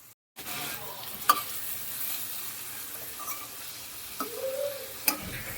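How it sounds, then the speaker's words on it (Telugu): Green chillies, onions and carrot roast in hot oil in a home kitchen while samosa filling is prepared. A steady soft sizzle runs throughout, broken by a few light clicks and scrapes of stirring. "పచ్చిమిర్చి, ఆనియన్స్ అండ్ క్యారెట్ని ఆయిల్ వేసి రోస్ట్ చేసుకోవాలి కాసేపు."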